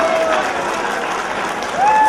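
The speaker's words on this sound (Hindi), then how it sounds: "बजाओ ऐसी तालियां कि आप सबको जोश आ जाए।" A crowd at a dandiya event claps loudly and steadily in a continuous wash, with a brief whistle-like tone at the start and again near the end.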